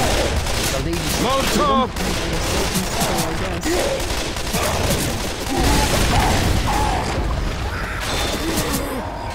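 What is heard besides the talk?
gunfire in the video game Left 4 Dead 2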